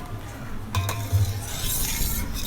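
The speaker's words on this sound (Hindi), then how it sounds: "और बार बार चम्मच हिलाते रहेंगे ताकि नीचे ना लगे।" Spoon scraping and stirring boiling milk in a pot while making sweet vermicelli, with a couple of soft metallic clinks and low bubbling, fairly quiet and close.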